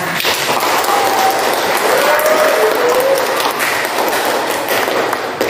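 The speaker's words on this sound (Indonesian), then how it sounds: "berikan tepuk tangan" Applause from a classroom audience after a student presentation on ad hoc networks, a steady dense wash of clapping that stays loud and even throughout, with no talk over it.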